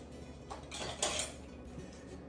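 A flat spatula picked up from a kitchen drain board among other utensils: a few soft metallic clinks and rattles, close and fairly quiet, with no talking.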